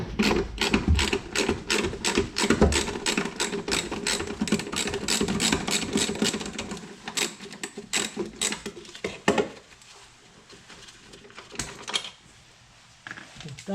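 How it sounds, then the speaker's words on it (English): A 10 mm wrench working the top bolt off a rear shock absorber on a Mk6 Ford Fiesta, a fast run of close metallic ratchet clicks that slows into scattered clicks and clinks before going quiet. "We'll take the 10 millimeter and get this bolt off the top."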